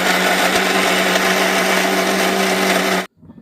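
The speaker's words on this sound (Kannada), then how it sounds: "ಈಗ ಮಿಕ್ಸಿ ಜಾರ್ಗೆ ಹಾಕಿದ್ದಾಯಿತು, ರುಬ್ಬಬೇಕು." A mixer grinder whirs loudly and steadily as it grinds potato puri ingredients, running without pause for about three seconds before cutting off abruptly into near silence.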